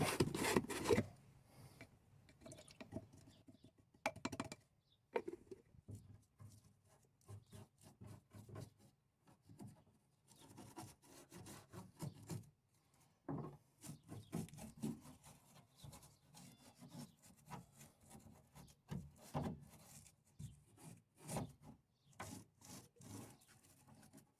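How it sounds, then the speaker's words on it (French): Paint-clogged squares of a mosquito-mesh vent grille for a Renault Master van are scrubbed clean with quiet, close rubbing and scraping strokes that come in irregular bursts separated by brief pauses, with no talking. "Là, je nettoie les carrés de la moustiquaire qui ont été bouchés par ma peinture"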